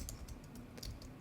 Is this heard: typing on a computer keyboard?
yes